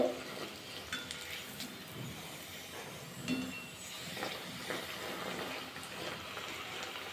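Nanpuri dough frying in hot oil, a steady soft sizzle and bubbling hiss with faint occasional clinks, continuous and fairly close with no talking.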